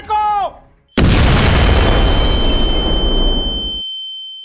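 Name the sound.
bomb explosion effect in a stage play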